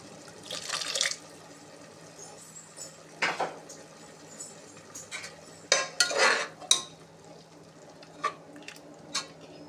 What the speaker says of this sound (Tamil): மிக்ஸி ஜாரை கழுவி ஊற்றிடுவோம்